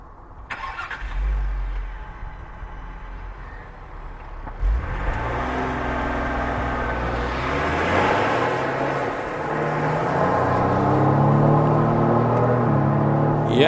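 A 2025 Ford Explorer ST, a 400-horsepower three-row SUV, accelerates hard with a deep engine note that climbs through the gears, rising in pitch and loudness toward the end after a brief quieter start.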